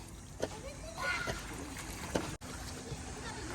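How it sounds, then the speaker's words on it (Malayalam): Children splash in river water some distance away near a bridge, with scattered sloshes and faint voices mixed in. "കുറച്ച് പിള്ളേർ വെള്ളത്തിൽ തകർക്കുന്നുണ്ടോ"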